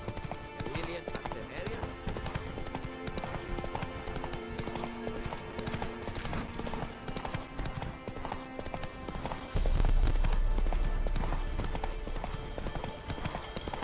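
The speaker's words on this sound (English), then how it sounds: "Come on, Roach" Horse hooves clip-clopping at a trot in the video game The Witcher 3: Wild Hunt, a rapid rhythmic clatter running throughout under game music, effects and voices, with a louder burst of sound near the end.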